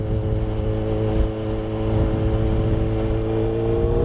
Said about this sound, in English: you hear that buzzing right there?